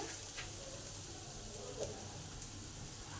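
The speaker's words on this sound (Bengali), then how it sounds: "রসুনগুলো আমার ভাজা ভাজা হয়ে গেছে, আদাটাও ভাজা হয়ে গেছে।" Garlic and ginger fry in oil in a pan, a faint, steady sizzle with a couple of soft stirring scrapes and no voices.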